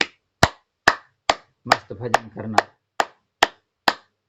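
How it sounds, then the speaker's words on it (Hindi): Sharp, evenly spaced hand claps, full-palm claps as in a yoga session for high blood pressure, ring out close and loud in a steady rhythm while someone speaks briefly in the middle. "ताली वादन करना,"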